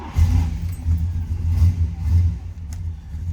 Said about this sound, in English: Let's go ahead and start this up so you can hear it run.